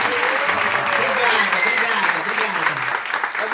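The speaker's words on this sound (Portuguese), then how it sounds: "E agora uma salva de palmas" A live audience claps steadily throughout, a dense burst of applause for a female announcer at a forum on digital media, art and Brazilian culture, with voices faintly mixed in beneath.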